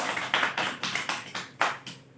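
Students in a classroom clap together for a classmate, a short burst of close, irregular applause with sharp hand strikes that builds and fades over about two seconds.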